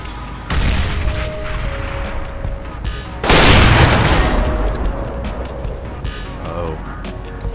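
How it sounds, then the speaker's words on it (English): A grenade in Counter-Strike: Global Offensive, a sharp thud as it lands and then a loud booming explosion that rolls and fades over several seconds, heard close amid game ambience. "I'm throwing a grenade."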